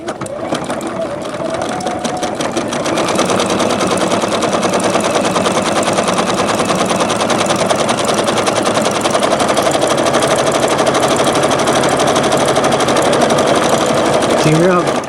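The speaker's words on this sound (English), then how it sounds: "You hear how fast I'm sewing with metallic thread on this?" A home sewing machine stitches rapidly with metallic thread at stitch length 4, a loud, steady, fast mechanical rattle that runs unbroken close to the microphone.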